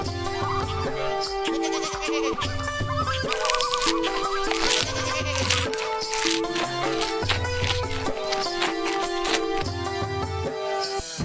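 Goats bleat in a Hindi cartoon about a herder and his two grazing goats, their wavering cries blended into a loud, steady music track with no speech.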